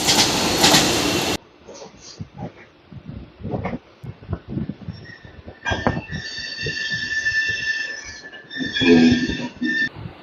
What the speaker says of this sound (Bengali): সুন্দর ভাবে সোলো স্কিপে পাস করে গেল আমাদের ট্রেন লিলুয়া স্টেশন